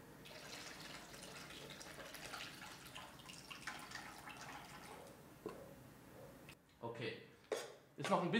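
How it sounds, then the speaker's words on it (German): Ice water drained out of a bowl of noodles in a kitchen: a steady close pour and trickle with clinks of the bowl, ending in a few louder bumps and splashes. "Ich gebe jetzt nur das Wasser ab."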